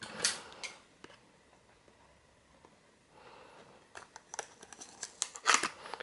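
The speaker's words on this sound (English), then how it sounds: "Here we go, scissors, I opened the box." Scissors snipping and slicing through the seal on a cardboard shipping box during an unboxing, with scattered crisp cuts and rustling near the start and a denser run of snips and crinkles toward the end.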